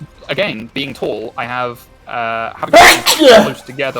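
A single sneeze bursts out in the middle of a casual conversation during a Monster Hunter Rise gaming session, loud and close, with people talking before and after it.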